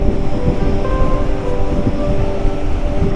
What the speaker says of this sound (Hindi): तो ये चल रही है हमारे बगल में काली नदी।